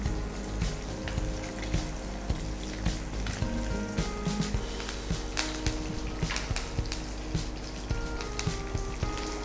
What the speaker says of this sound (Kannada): ಇದು ಫ್ರೈ ಆಗ್ತಾ ಇರ್ತದಲ್ಲ, ಟೊಮೆಟೊ ಸಹ ಹಾಕಬೇಕು ಒಟ್ಟಿಗೆ.